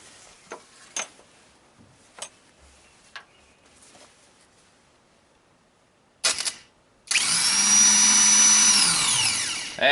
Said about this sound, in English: I'm going to try the new starter and see what it sounds like.